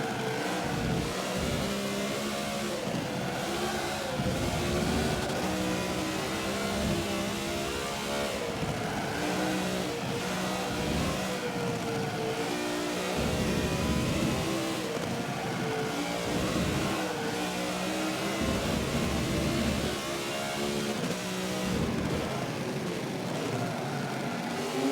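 BMW car engine revving during a multiplayer race in Forza Motorsport 7, a steady continuous engine drone with rising and falling pitch throughout, loud and close.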